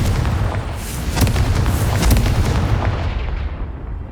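A Confringo spell blast in a PlayStation video game makes a loud, sustained booming roar, like rolling artillery fire, that swells and fades over a few seconds with no voices.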